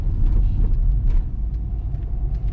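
A car driving along a street in Kaliningrad past a residential complex, heard as a steady low engine and road rumble close by, with slight swells in the noise and no talking.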